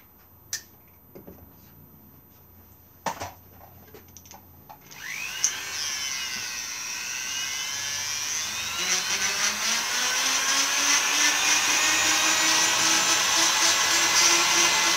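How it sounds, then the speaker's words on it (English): A small sanding disc spins up and grinds steadily against a carved wooden woodcock thumbstick, rounding it off, a loud sustained whirring rasp after a few faint clicks and taps at the start. "What I might do is just use a little sanding disc."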